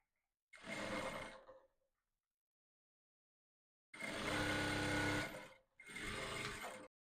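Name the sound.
sewing machine stitching corset boning channel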